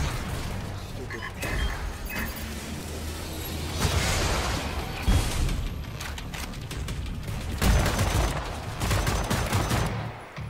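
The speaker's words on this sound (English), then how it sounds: "I'm going to shoot them in the face" Wolfenstein: The New Order combat gunfire rattles in repeated bursts and single shots, mixed with mechanical clanks and a few booms, loud and close throughout with the firing intensifying in several waves.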